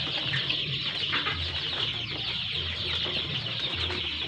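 Dense, continuous high-pitched peeping from many day-old chicks close by in a brooder box, a busy overlapping chorus with no talking.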